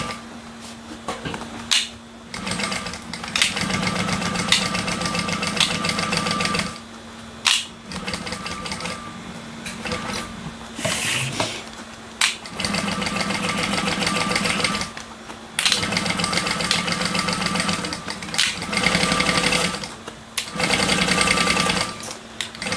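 A sewing machine stitches seams on a Lyra bag in repeated bursts of rapid, rattling needle action, each run lasting a few seconds and separated by short pauses, close and steady throughout.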